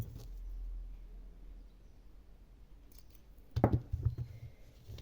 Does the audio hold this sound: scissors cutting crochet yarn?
yes